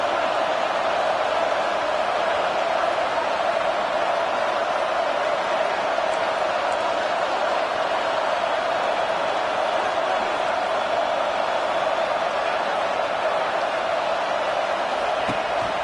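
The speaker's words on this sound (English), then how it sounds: "The Buckeye crowd alive on third down." A packed football stadium crowd roars on third down in a college game, a dense, steady wall of loud cheering that holds for the whole stretch with no clear breaks.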